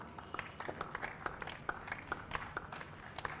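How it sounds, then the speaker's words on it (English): Sparse, faint applause from a small audience at an international pro tennis tournament in Bhubaneswar, scattered individual claps in an uneven patter with no voices over it. "Can we be a little more generous in the applause, ladies and gentlemen?"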